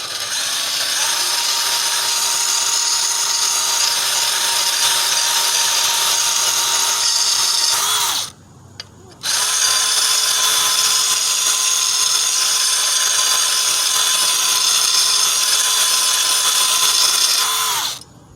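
Drill-powered lawnmower blade sharpener grinding a mower blade, a loud steady whining grind that runs for about eight seconds, stops briefly and then starts again for another stretch, with no voices.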